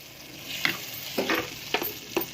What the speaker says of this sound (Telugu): ఈ పోపుని మెల్లిగా ఇందులోకి దింపేస్తాను